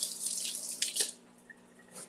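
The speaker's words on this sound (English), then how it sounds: "I'll rinse these." Tap water runs over fresh pineberries being rinsed, a steady broadband splash for about a second before the flow stops, leaving faint drips and a low background hum.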